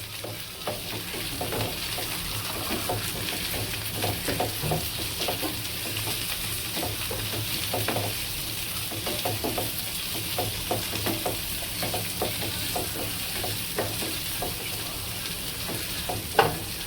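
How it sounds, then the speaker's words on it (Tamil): Onions and other chutney ingredients sautéing in a pan, a continuous moderate sizzle with frequent stirring scrapes and clinks along its whole length. "வெங்காயம் கொஞ்சம் நல்லா வதங்கணும்"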